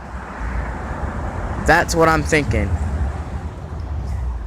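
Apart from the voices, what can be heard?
strong wind blowing outdoors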